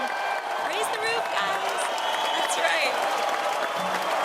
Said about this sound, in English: Can we do that round of applause again?